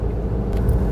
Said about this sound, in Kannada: ಬರ್ತಾರ ನೋಡಿ ಗಾಡಿ ಮೇಲೆ.